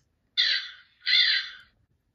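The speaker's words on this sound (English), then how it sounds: "A crow goes." A crow caws twice, two harsh, loud calls close by, each lasting under a second with a short gap between them and nothing else in the background.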